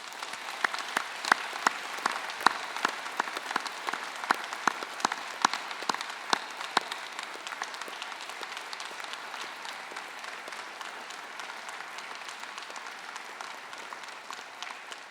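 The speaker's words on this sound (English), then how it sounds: "join us all in a round of applause to thank them for all of their support" A graduation audience at a Swinburne ceremony applauds at length. A few sharp, close claps stand out early, then the sound settles into a broad, even wash of clapping from a large hall.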